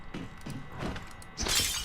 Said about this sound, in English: That's how you smash open glass.